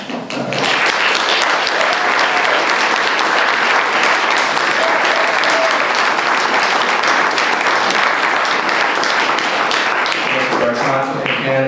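Long round of applause at a town council meeting for a committee, dense continuous clapping from a room of people, with a voice emerging near the end.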